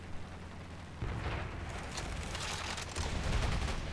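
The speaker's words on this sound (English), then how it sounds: "Defensive fire is still hitting me." Defensive gunfire striking a fighter plane in War Thunder, a dense rattling burst of impacts and rapid fire kicking in after a second and continuing over a loud droning aircraft engine.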